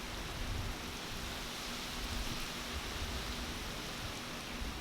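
Heavy rain from Tropical Storm Isaias pours down in a steady, dense, even wash of noise, continuous and fairly distant, with no voices.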